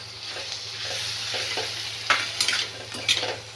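Navalgond greens with their stems frying in a pan, a steady sizzle with a low hum beneath and several scraping stirs of a spatula toward the end, close and clear, with no talking.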